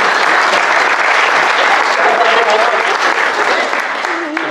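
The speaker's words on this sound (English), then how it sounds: "Give her a round of applause." Wedding guests give a sustained round of applause at the ceremony, loud and steady throughout, with voices and a few cheers mixed into the clapping.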